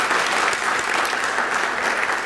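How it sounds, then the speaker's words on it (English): Audience at a university inaugural lecture claps loudly and continuously, a thick, even roar of many hands with no break. "I think we should clap for him"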